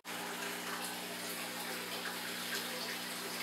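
Water steadily filling an aquarium tank after a water change, a continuous close rushing and splashing flow over a low steady hum, with no pauses.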